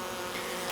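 A brief, dense buzzing of many bees during hive installation, fairly quiet and steady, with no voices.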